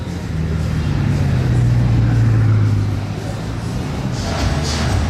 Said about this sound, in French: regardez le convoi, Lamborghini Sian, Carbone et la Chiron, c'est les deux cousins